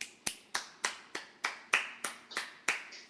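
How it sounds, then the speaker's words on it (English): Single, sharp claps repeat about every third of a second in a steady rhythm, about ten in all, each crisp and close with a short ringing decay, as one person applauds students at the end of a lecture. "So I'd like to give you a round of applause right now."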